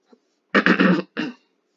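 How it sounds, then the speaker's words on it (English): A person with an irritated throat clears it and coughs in a short burst of three or four harsh, close bursts, then a shorter one after a pause, with no talking. "Sorry about all the coughing."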